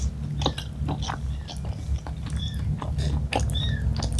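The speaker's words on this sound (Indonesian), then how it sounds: "Kayaknya aku mau langsung satu suap." Someone chews a mouthful of spicy chicken feet and meatballs in broth, with close, repeated wet bites and crunches over a steady low background hum.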